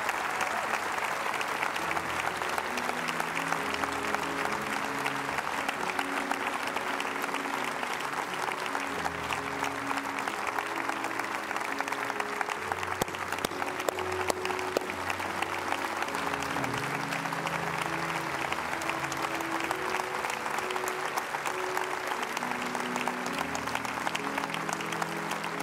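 Church congregation applauding during a Christian sermon: steady, continuous clapping from a large crowd with a murmur of voices and faint tonal background underneath, holding at an even level throughout.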